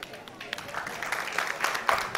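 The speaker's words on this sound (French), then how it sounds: "On va les applaudir." An audience applauds at a school awards ceremony, a scattered, fairly faint clatter of hands that builds slightly, with voices audible underneath.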